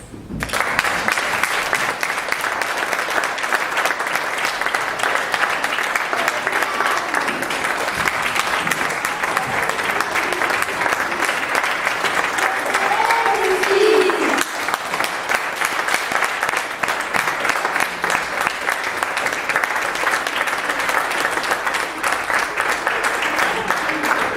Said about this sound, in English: Let's hear a round of applause for the magicians.